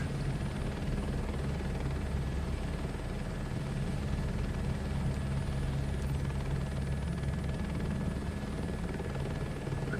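A helicopter's rotor and engine drone evenly throughout in Microsoft Flight Simulator 2024, a steady mid-loud thrum with no talk over it.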